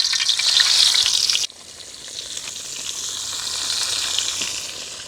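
Pearl spot fish (karimeen) frying in hot oil, a loud bright hiss for the first second and a half, then a softer, steady sizzle that slowly builds again.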